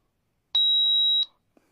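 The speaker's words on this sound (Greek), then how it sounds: "Τρίτο τελευταίο κουμπί, θα ακούσετε ένα μπιπ." Electronic self-test beep from a snake-deterrent safe-driving whistle, one steady high tone lasting about seven-tenths of a second and followed by faint clicks, loud and isolated against silence.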